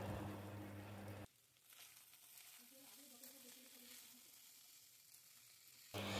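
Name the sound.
minced chicken frying with garlic and onion, being stirred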